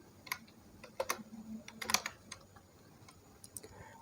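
Typing on a computer keyboard during a Python programming lesson, a short run of light, close clicky keystrokes in an irregular rhythm with brief pauses between them, heard alone without talk.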